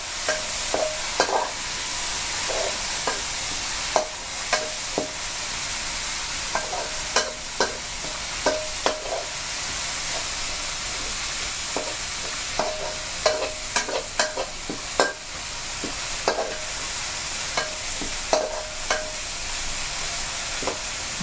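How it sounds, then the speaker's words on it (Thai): Chilies stir-fried in a hot pan for a Thai stir-fry of stink beans, minced pork and fresh shrimp, with steady close sizzling broken by repeated sharp scrapes and clanks of the spatula against the pan. "ผัดพริกให้หอมนะคะ"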